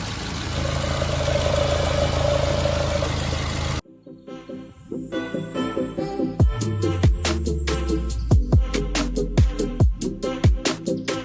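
A fully warmed-up 2011 Mercedes-Benz B-Class automatic's engine rumbles, then cuts out and restarts, settling into a running idle with rhythmic pulsing and clicking mechanical noise.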